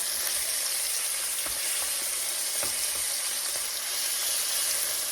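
Chicken tenders sear in a hot pan with a steady, close sizzle and frying crackle, broken by a few soft scrapes and stirring taps throughout.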